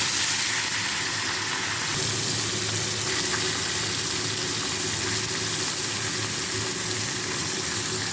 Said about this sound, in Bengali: কড়াই তেল দিয়ে দিয়েছি তেল গরম হয়ে গেছে এবার মাছগুলো আস্তে আস্তে